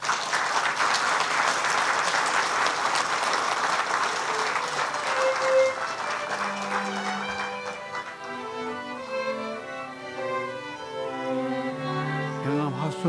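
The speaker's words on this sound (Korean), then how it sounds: "나오실 때 큰 박수로 환영해 주십시오." Audience applause welcomes the chairman at the 2011 Gyeongam Prize award ceremony: dense, steady clapping fills the hall for about six seconds, then fades as soft instrumental music takes over.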